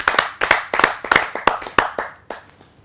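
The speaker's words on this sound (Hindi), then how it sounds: "आप सबकी जोरदार तालियों से।" Rhythmic clapping from an audience at a Hindi poetry gathering, about a dozen sharp, distinct claps in a loose beat that thins out and stops near the end.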